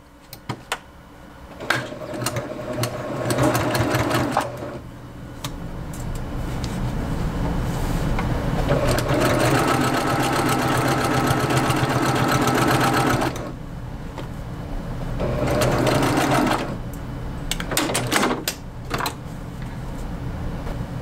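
A sewing machine stitches a quilt in long, loud, steady runs close by, pausing briefly twice between bursts of continuous mechanical whirring.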